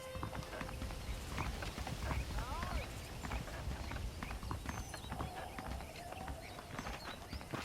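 Horse hooves clip-clop steadily at a walking pace in the Western video game Red Dead Redemption on Xbox 360, close and rhythmic over faint outdoor ambience, with a brief whinny and someone talking.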